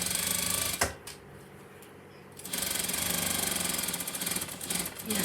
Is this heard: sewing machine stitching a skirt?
yes